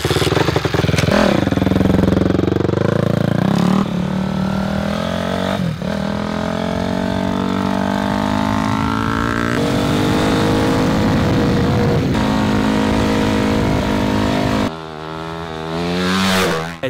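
A dirt bike engine revs loud and close while riding through hot, dusty Arizona desert, its pitch climbing and falling through repeated throttle surges and gear changes across the whole stretch.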